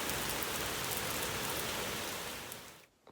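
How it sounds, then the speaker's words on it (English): Heavy rain pouring down outdoors, a dense continuous hiss of drops drumming on surfaces, loud and steady, fading out abruptly at the end. "it is pouring with rain again"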